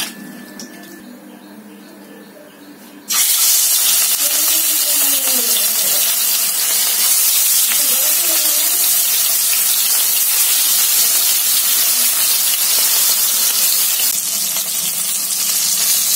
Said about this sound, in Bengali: এভাবে করে আমি সম্পূর্ণ মাছটা ভেজে নিলাম।